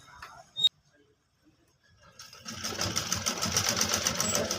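Domestic sewing machine stitching a kurti coat collar, a fast steady whirring run that starts after a brief click and quiet pause, close and continuous to the end.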